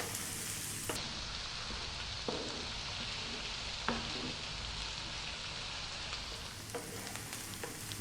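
Chopped onion frying hard in a pan over high heat, a steady dense sizzle running throughout with occasional stirring scrapes and clicks, close and unbroken, no talking.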